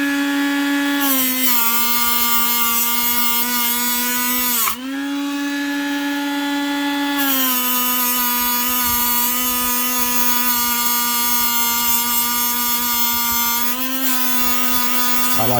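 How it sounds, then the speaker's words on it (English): A Dremel rotary tool fitted with a flap wheel whines at a steady high pitch while grinding on a Gottlieb pinball machine's front door, loud and close, with brief dips in speed. "Let's start up that Dremel"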